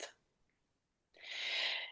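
One close, breathy sneeze erupts after a short soft intake and a quiet pause, sharp and hissy, alone in a quiet room.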